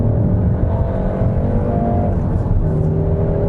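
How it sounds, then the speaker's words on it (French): A Peugeot 308 GTi Sport hot hatch engine drones steadily and loudly, its tone shifting slightly as it runs, with no voices over it. "la sonorité du moteur qui est assez quelconque en mode normal, assez artificiel en mode sport"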